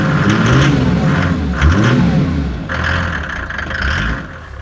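An old car fitted with an 8 mm injection pump and running harder than standard revs in rising and falling bursts, a mid-pitched engine close by that roars up, eases, then climbs again.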